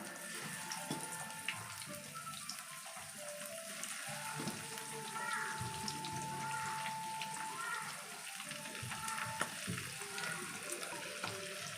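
Fish coated in masala and a little oil fries in hot oil with a continuous, even crackling sizzle that holds steady throughout and carries a faint watery hiss.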